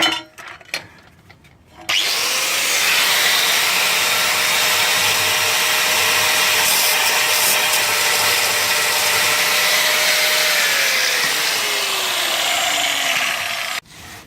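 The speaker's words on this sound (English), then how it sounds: "let's grind it off flush and drill it out." An angle grinder cuts a broken easy out flush on exhaust studs of a Nissan 300ZX, a loud continuous whine holding steady for about twelve seconds before winding down, with no talk.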